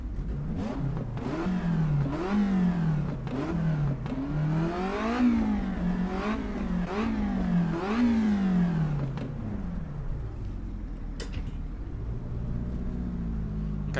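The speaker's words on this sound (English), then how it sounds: "Let's listen to those cars." Car engines revving repeatedly in the racing game Assetto Corsa EVO on vintage tires, rising and falling in loud sweeping bursts before settling into a steady low drone.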